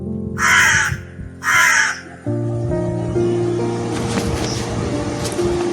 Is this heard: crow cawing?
yes